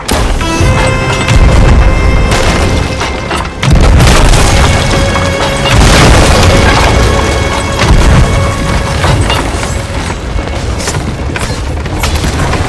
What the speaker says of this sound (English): I was just going to absolutely pelt them with as many cannonballs as I possibly could